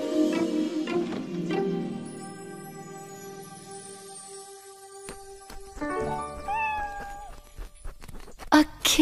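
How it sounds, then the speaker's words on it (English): Cartoon kitten meowing, a few short high mewing calls around the middle against a bed of bright musical tones and chimes, with a sudden tinkling burst near the end. "A kitten."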